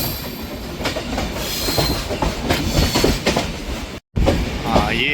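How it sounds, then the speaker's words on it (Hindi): Konkan Railway train turning near a junction, wheels clattering over rails with a rising squeal toward the end, heard from inside the moving train with a brief dropout. "क्योंकि ट्रेन मुड़ रही है।"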